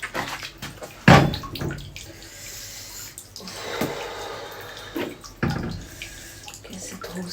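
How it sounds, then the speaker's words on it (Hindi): Water splashes and pours over an injured, scraped foot in a village home, coming in uneven bursts of running and splashing with pauses between them. "थोड़ा सा अपने पाँव को साफ कर लेती हूँ"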